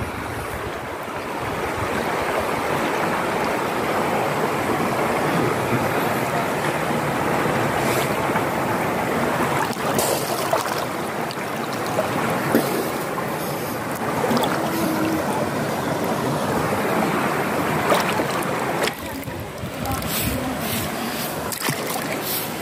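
The Ilaya river in Rodriguez, Rizal runs high with a strong current, making a steady, close rushing wash that continues unbroken, with only faint, sparse background sounds.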